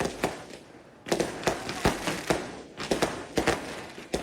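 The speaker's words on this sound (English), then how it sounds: "hundreds gathering here to watch fireworks in Taiwan's capital city" Fireworks go off in Taipei's capital-city celebration, with a rapid series of sharp, loud bangs and crackles at uneven intervals over a continuous background rumble.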